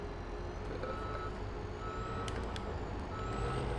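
A farm machine backs down toward a small trailer, its reversing alarm sounding as a regular series of high beeps over a steady engine rumble, fairly near and alone without talk.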